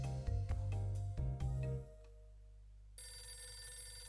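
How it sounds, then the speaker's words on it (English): In the Nintendo DS game Hotel Dusk: Room 215, a telephone rings in a short run of bright repeated trills that stops abruptly. A soft tone and quiet game music follow. "The phone's ringing."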